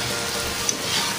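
Chop suey with cabbage being stirred in a frying pan, a steady close sizzle and crackle of frying vegetables with soft scraping movement throughout, no voices.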